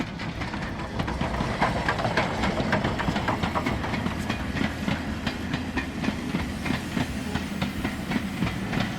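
A train on the Alishan forest railway clatters along steadily, with rhythmic clickety-clack of wheels over rail joints beneath a continuous rumble and hiss, close and sustained with no talking.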